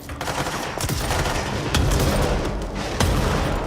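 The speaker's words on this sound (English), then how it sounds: "Have some explosions." Dense, rapid bursts of explosions and gunfire in the video game Control, loud and continuous, with heavier booms punctuating the barrage.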